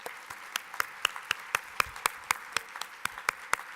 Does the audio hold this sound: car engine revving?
no